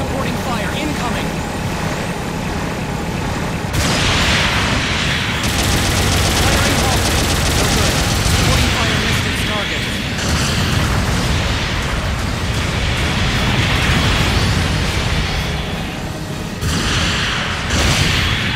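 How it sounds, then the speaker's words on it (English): Long-range supporting artillery fire in Gundam Battle Operation 2 rains down in dense, loud, continuous blasts and rumbling booms that overlap with almost no pause, with a few abrupt shifts in intensity. "Long range supporting fire incoming."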